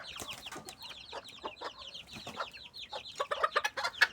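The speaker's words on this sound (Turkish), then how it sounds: "tavuklarımız başladılar yemeye" A flock of chickens pecking at barley grass clucks nonstop in busy, overlapping calls, close and moderately loud, growing livelier toward the end with no voices present.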